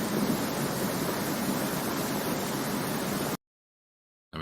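Water waves ambience on a tabletop game map: a steady wash of surf-like noise that runs unbroken, then cuts to silence before briefly returning.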